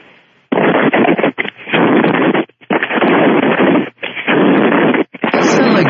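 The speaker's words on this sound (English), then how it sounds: "Sounds like gunfire, doesn't it?" Loud, gunfire-like popping comes in rapid bursts of harsh crackling, broken by short gaps, close and dense with no voices over it.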